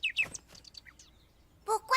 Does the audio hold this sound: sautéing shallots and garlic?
no